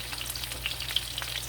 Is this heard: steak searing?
yes